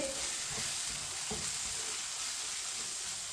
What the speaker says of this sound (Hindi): मिक्स करके मसालों को 1 मिनट के लिए फ्राई कर लेंगे, पका लेंगे, भून लेंगे